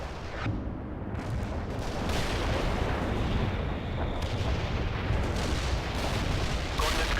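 A heavy artillery barrage in the strategy game World in Conflict rumbles as a dense, continuous wall of booms and blasts, loud and sustained, with faint radio voices underneath.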